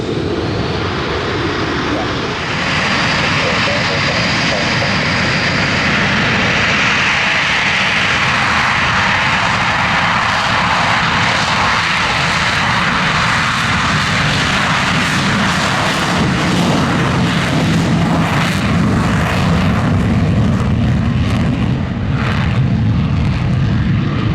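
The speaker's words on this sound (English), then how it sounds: "Once again bringing 3-plane formation now into another overhead maneuver." Blue Angels jet aircraft in a three-plane formation roar overhead during a maneuver at the Pensacola NAS air show, a loud continuous engine rumble and whine that swells and shifts as they pass, with faint announcer talk underneath.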